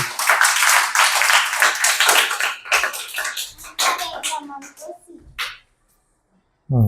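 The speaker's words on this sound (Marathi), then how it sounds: "टाळ्या वाजवा यांच्यासाठी" Classroom of schoolchildren clapping for a student during Navodaya scholarship exam preparation, a dense burst of many hands lasting several seconds before thinning out, with an adult voice speaking over it.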